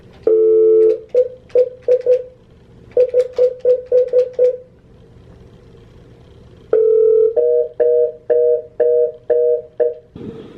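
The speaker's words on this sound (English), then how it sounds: "when I dial into my conference call, I just get the busy signal" A telephone busy signal heard when dialing into a conference call: loud, steady electronic beeps pulsing in regular on-off bursts, with a short pause in the middle before the repeating tones resume.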